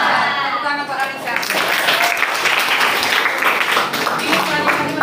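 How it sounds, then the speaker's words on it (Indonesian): Clapping from a ninth-grade social studies class in a junior high school, a burst of many young hands applauding a student, with the teacher's voice heard briefly at the start. "Tepuk tangan untuk Anissa"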